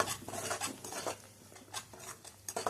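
A spoon stirs chili powder and spice mix in a pan for fish fry, giving quiet repeated scraping and clinking strokes in an uneven rhythm.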